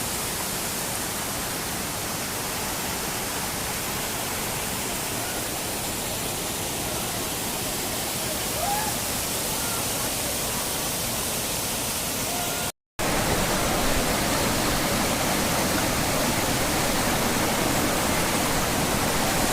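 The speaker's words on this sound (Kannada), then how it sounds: "ಆ ನೀರಿನ ಸೌಂಡೇ ಸಾಕು, ಎಕ್ಸ್ಪ್ಲನೇಷನ್ ಆಟೋಮೆಟಿಕ್ ನಿಮಗೆ ಗೊತ್ತಾಗುತ್ತೆ" Benki Falls pours through the forest with a steady, full-bodied roar of falling water, loud and close. It holds constant apart from a split-second dropout, then resumes slightly louder.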